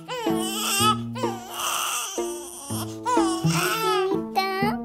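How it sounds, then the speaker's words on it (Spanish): A toy doll makes loud, looping baby-crying sounds, with wailing bursts broken by short pauses, close and clear with no talk over them. "Ay, escucho un llanto por acá."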